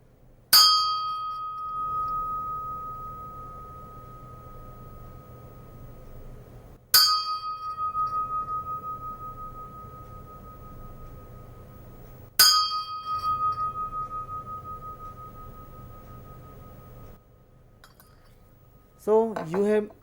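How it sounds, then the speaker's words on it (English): A Kathmandu bell is struck three times, several seconds apart, each strike ringing on as a long, clear, slowly fading tone held over a pipe, followed by a brief quieter sound at the end. "This is a Kathmandu bell"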